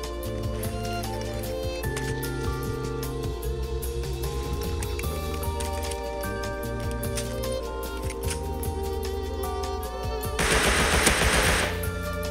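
AK rifle fire in the survival game Rust: steady rapid automatic shots throughout, close and loud over game music, with a harsher burst near the end.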